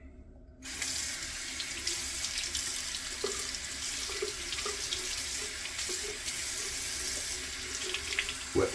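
A bathroom sink tap is turned on and runs steadily, a close, continuous rushing of water with faint splashes as hands wet the face during a morning shave, ending with a brief clatter.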